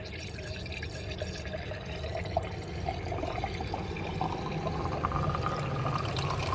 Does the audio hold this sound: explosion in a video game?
no